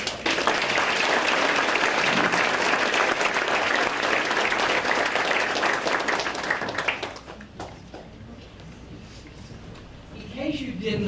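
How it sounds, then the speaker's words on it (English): An audience at the Alabama Teacher of the Year ceremony breaks into loud sustained applause that fills the hall, then thins to scattered claps with a voice emerging near the end. "please give everyone a big round of applause."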